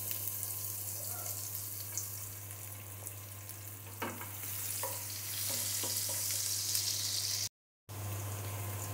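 Chopped onion frying in oil in a pan, a steady close sizzle with a few soft stirring scrapes, a low constant hum running underneath and one brief dropout near the end.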